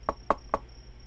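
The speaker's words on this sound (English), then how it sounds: "After Blossom knocks, there's a bit of a shuffling behind the door." Three evenly spaced knocks on a door in the video game Frightwood, crisp and close, followed by a faint steady hum.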